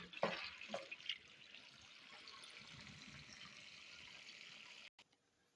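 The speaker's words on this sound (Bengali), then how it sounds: "এই যে চচ্চড়িটা ধুয়ে নিচ্ছি।" Cabbage chorchori vegetables being rinsed under running tap water, a steady close splashing stream with a few louder splashes at the start, cutting off abruptly near the end.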